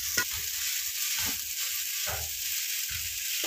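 Soft scraping strokes of a spatula stir crumbled leftover idli in a frying pan, four or five times, over a steady background hiss of sizzling.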